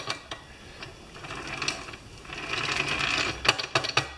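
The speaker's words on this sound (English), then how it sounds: "I think I'm going to finish welding it up." Welding on a Craftsman snowblower transmission gives a steady crackling, sizzling buzz that builds and fades, with a few sharp ticks and pops near the end and no speech.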